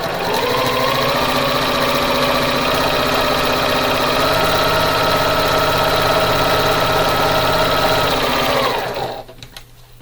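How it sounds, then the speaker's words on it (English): A sewing machine stitches a quarter-inch seam on yellow and green quilt fabric, running loud and steady with an even mechanical whir for about nine seconds before stopping. "I'm going to bring this to my machine and sew a 1/4 inch on either side of that line."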